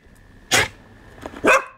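A dog gives two sharp barks about a second apart, close and fairly loud, with quiet room sound between them.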